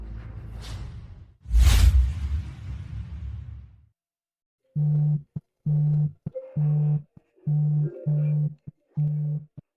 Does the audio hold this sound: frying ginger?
no